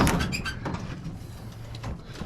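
Door of an M-677 forward control Jeep pulled open nearby, a short latch clunk and rattle followed by a brief sliding scrape, heard on its own.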